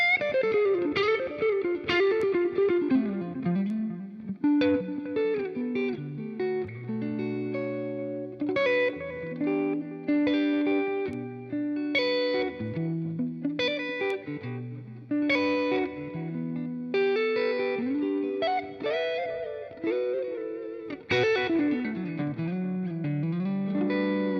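A fuzzy, heavily distorted Stratocaster electric guitar through a Line 6 Helix Floor plays melodic lines and sustained notes, alone, with no voices.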